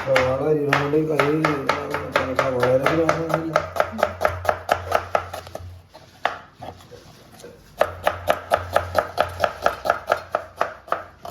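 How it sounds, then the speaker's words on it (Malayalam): Onions are chopped with a knife on a board in quick, regular knocks, close and crisp, continuing under a person talking at first, pausing briefly, then resuming at the same steady pace. "സവാള അരിയുമ്പോ"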